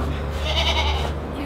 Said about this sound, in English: You are such an easy little goat, Sophie.